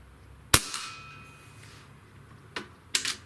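An Umarex Gauntlet PCP air rifle fires at a shotgun shell target, one sharp crack followed by a ringing decay, then two fainter quick snaps near the end, in a quiet setting.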